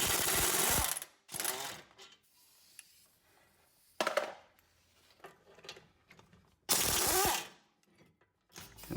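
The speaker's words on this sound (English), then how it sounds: "so we're going to get our air gun in behind there." Air impact gun rattling loose 17 mm brake caliper bracket bolts on a Lexus IS250, loud hammering bursts of about a second each, separated by quiet pauses with light clanks and handling noise.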